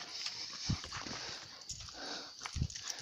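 Dogs close by with scattered low thumps and short yelps or whimpers over a faint background hiss, brief bursts spread across the moment.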